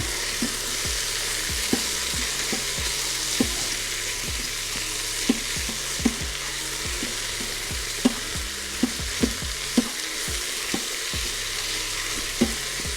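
Meat browns in an Instant Pot Duo Crisp, sizzling steadily while a utensil scrapes and stirs the pot in repeated knocks, close and fairly loud, with no talking.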